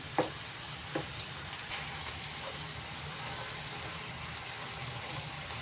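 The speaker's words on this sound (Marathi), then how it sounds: "मोठ्या गॅसवरच आपण छान तळून घेऊया." French rice frying in oil over a high flame, a faint steady sizzle throughout with a couple of soft clinks near the start.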